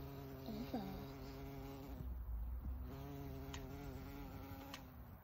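A close, droning buzz of insects with wavering tones, steady throughout and fairly faint, with a few brief clicks.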